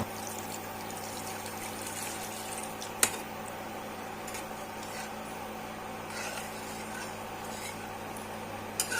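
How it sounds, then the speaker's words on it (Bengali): Water is poured into a simmering fish egg curry gravy, making a soft, steady stream and trickle with a few small clicks, fairly faint and with no talking. "দিয়ে দিচ্ছি পরিমাণ মতন জল।"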